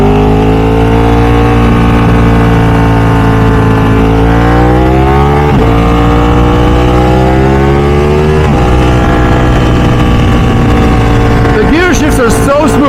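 A Ducati 1199 Superleggera motorcycle ridden on a sunny Southern California road, its engine pitch climbing through the revs and dropping sharply at smooth gear shifts, loud and close, with wind buffeting near the end.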